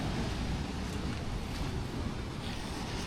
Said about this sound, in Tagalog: Ang laki ng alon ngayon.